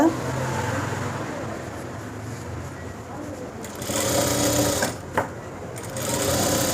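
A sewing machine runs steadily while stitching a school uniform coat, its motor whirring continuously and louder in later bursts, with brief pauses between runs.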